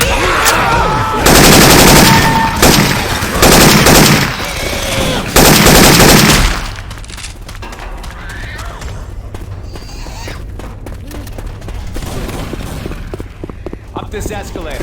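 Syphon Filter weapon sounds are modded into Left 4 Dead 2 gameplay: loud, rapid automatic gunfire bursts for about six seconds, then quieter scattered shots and game noise.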